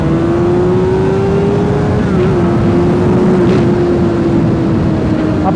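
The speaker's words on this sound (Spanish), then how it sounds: "A pesar de que es el escape original, suena muy bien." A stock-exhaust Honda CBR 1000 RR sportbike runs with a steady, loud engine drone that holds a constant pitch, with a slight dip and rise partway through, alone with no talk.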